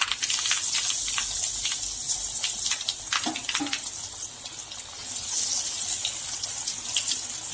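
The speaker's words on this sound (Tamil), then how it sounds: "இப்போ நம்ம எடுத்து வச்சிருக்கிற ஃப்ரை பண்ணி எடுத்து வச்சுருக்கோம் இல்லையா வாழைக்காய் பீசஸ், அதை ஒன்று ஆட் பண்ணிடலாம்" Fried raw plantain pieces tipped into a mustard seed and curry leaf tempering in a pan, giving a steady loud sizzle and hiss with scattered clatters and scrapes, no speech.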